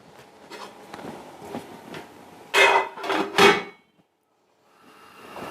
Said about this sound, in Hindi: दूसरे चूल्हे पे इसको रख देती हूँ।